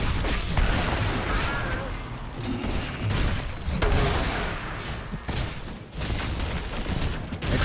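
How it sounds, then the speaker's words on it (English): Exploding Palm monk skill in Diablo 3 hardcore combat, a rapid series of loud booming bursts and crackling blasts over a dense, steady game soundscape. "Exploding palm technique."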